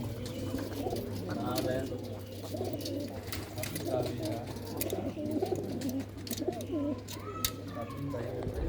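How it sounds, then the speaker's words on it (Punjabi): Pet pigeons coo repeatedly nearby in a loft, soft rolling calls layered over a steady low hum, with people talking at moments. "ਬਹੁਤ ਹੀ ਵਧੀਆ ਵਧੀਆ ਕਬੂਤਰ ਨੇ ਬਾਈ ਹੁਣਾਂ ਦੇ ਕੋਲ"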